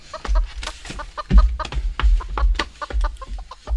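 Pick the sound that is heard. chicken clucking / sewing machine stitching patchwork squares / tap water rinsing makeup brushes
chicken clucking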